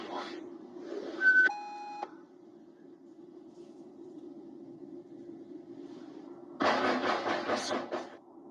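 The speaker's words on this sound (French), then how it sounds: "On peut entendre quelque chose tambouriner à la porte" Something pounds on a door at night in a dark home, a dense burst of heavy thuds running for about two seconds near the end, preceded by a brief electronic beep over a low steady hum.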